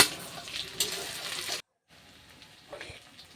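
Meat cooking in a pan in a home kitchen gives a close, bright sizzling hiss that breaks off abruptly, then returns as a quieter sputter.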